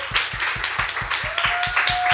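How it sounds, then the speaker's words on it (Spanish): A church congregation claps in a steady, regular rhythm of sharp, evenly spaced beats. The clapping is loud and close, with a sustained musical tone entering partway through. "Dale un buen aplauso a la palabra de Dios."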